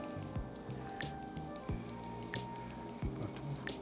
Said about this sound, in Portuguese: gente vai selar os 4 lados do filé para que ele se retenha um pouco de água